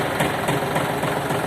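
A Yanmar AF-24 tractor with a glow-plug diesel engine idles up close, making a steady, throbbing rumble with a regular knocking pulse and no voices.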